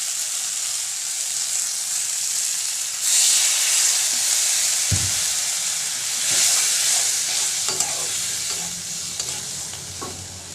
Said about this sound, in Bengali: এবার আমি এতে হালকা পরিমাণ জল দেবো